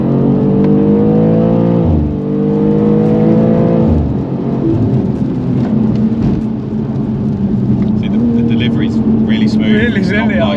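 A tuned BMW G87 M2 drives on the road, its engine heard from inside as it revs up and shifts twice with rising pitch, then settles into a steady cruising drone with some voices.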